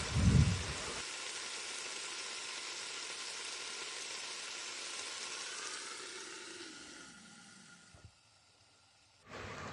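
Raw mango pieces cook with salt and sugar in a pan, making a continuous hiss-like sizzle after a brief thump. The sound fades gradually, drops to near silence, then returns abruptly at the end.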